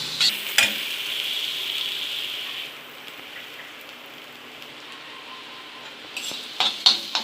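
Crushed ginger and garlic sautéing in a pan over a medium flame for mutton spleen fry, a steady bright sizzle with spatula scrapes and clicks near the start and end, softening in the middle, with no talking.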